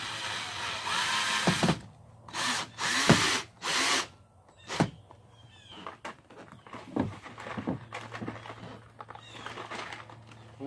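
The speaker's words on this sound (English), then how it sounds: "When it's hot, them screws sink right down in there." A power drill drives screws into a plastic barrel canoe with PVC ribs, heard as several short separate bursts of whirring, each a second or less, with quieter handling noise and background hum between them.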